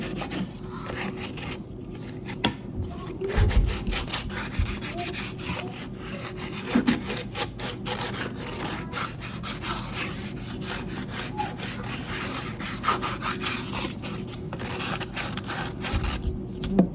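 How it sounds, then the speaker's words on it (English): A rough wooden kitchen spoon is sanded by hand, a steady close rasping rub repeated in quick back-and-forth strokes for the whole stretch, with a few heavier knocks and no talking. "So I'm going to also sand this just a little bit."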